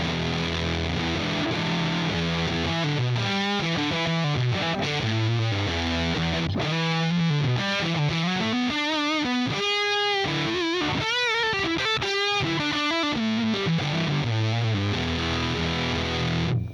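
An electric guitar through a fuzz pedal with the fuzz at maximum plays a thick, saturated riff, buzzing and sustained throughout at a strong, constant level.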